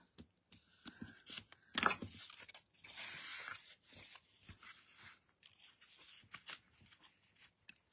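Paper creases sharply while folds are marked at 1 cm intervals for an autumn window craft, with crisp crinkles, scrapes and a longer rustling sweep, close and irregular.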